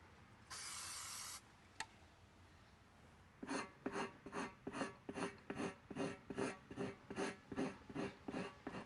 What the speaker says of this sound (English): We'll scrape the area, and we're trying to remove the silicone that was left when they built the tire.